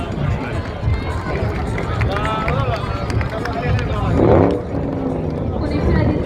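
Engines of cars and aircraft roar together at the Black Sea Air Show 2025, including a Mustang, in a loud, continuous rush of mechanical noise with a brief swelling surge near the end, a crowd murmuring beneath.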